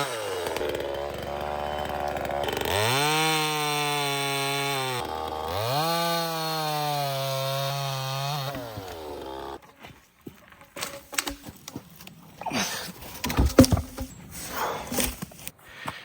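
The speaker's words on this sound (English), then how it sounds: "All right, I gotta cut this tree out." A chainsaw cuts through a fallen tree along an abandoned railroad, the engine droning loud and close as it revs up twice, then it stops and the clip ends in scattered knocks and rustles.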